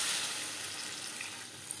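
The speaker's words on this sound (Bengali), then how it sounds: "এই পর্যায়ে দিয়ে দেব জল" Water poured into a pan of silver carp fish curry with potatoes cooking in spices, a soft continuous rushing hiss that slowly fades over under two seconds.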